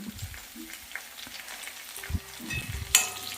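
An asafoetida lump and green chillies fry in hot oil, giving a low, steady crackle with scattered sharper pops that grow busier toward the end; one brief clink near the finish.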